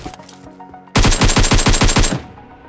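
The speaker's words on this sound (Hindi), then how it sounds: "मैं उस पर फायर करता हूँ लेकिन वो इसमें बच जाता है" A loud, close burst of rapid automatic gunfire in a shooter video game, about a dozen evenly spaced shots in roughly one second, preceded by quieter game sounds.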